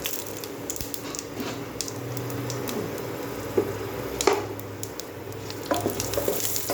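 Cumin seeds, two dried chillies and two bay leaves sizzle in hot oil in a pan, a steady quiet crackle punctuated by sharper spits and a few scraping stirs.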